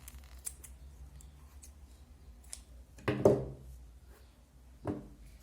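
Scissors cutting cord for a handmade napkin holder, two distinct crunchy snips with faint small handling clicks around them, close and quiet.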